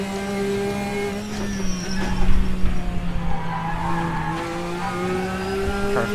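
Race car at Sebring in a sim racing game, engine holding a steady droning note with tires squealing and scrubbing through a corner, loud and continuous with no talk.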